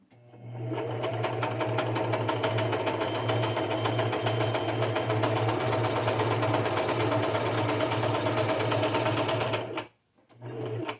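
A sewing machine runs steadily for about ten seconds, stitching red thread onto paper journal cards, with a strong hum and rapid needle rhythm before a brief pause and restart near the end.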